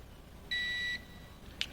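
A multimeter gives one steady electronic beep, about half a second long, while checking continuity across the two ends of a sliced wire on a portable tire inflator pump. A faint short click follows shortly after.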